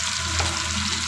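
Ground spice paste of garlic, ginger, cumin and five-spice hitting hot oil with prawns in a pan, a brief loud sizzle and frying hiss heard up close.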